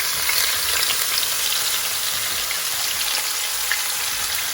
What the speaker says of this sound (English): I have got a hot pan here with 2 to 3 tablespoons of oil, and I'm just going to cook this